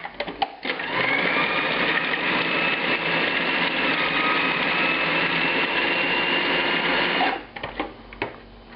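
A food processor grinds sausage, shallots and garlic in one loud, continuous whirring run of about seven seconds, bracketed by brief clicks and clatter before and after.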